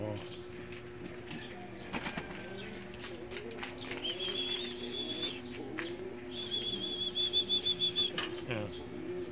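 Pigeons coo and flap their wings around a coop, the fluttering and soft calls coming in bursts over steady background noise, with brief chirps and a quick flutter of wings late in the stretch.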